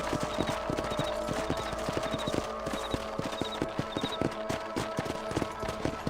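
Horse hooves clip-clopping in the Red Dead Redemption video game, a steady, evenly paced clatter of hoofbeats close by, with a faint high ringing repeating over it.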